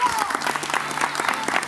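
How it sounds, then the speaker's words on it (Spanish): An audience at an event celebrating families in traditional Aragonese dress claps briefly, giving a short, fairly light burst of applause with a bit of crowd noise beneath it. "Un aplauso para ellos"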